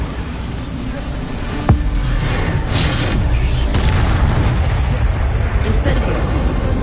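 A Bombarda spell blast in the Hogwarts Legacy video game: one sharp boom near 1.7 seconds, then dense ongoing spell-combat noise and rumble that keeps up to the end.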